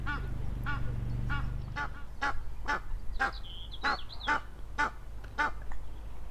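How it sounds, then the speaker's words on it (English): Noisy geese honk repeatedly near a fishing spot at midday, a steady series of about a dozen loud, evenly spaced calls over a low background rumble. "Very noisy geese."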